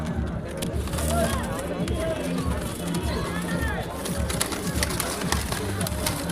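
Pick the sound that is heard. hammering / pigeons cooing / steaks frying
pigeons cooing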